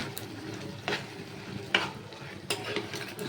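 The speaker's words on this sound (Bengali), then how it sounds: "নাড়িয়ে দিচ্ছি" Taro leaf greens (kochu shak) stirred in a pan, a soft steady sizzle broken by a few scraping spatula strokes against the pan, close and without talk.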